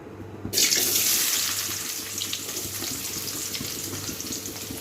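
Chopped onions dropped into hot oil in a kadai for an army-style chicken curry, a sudden loud hiss that settles into a steady, bright crackling sizzle close by.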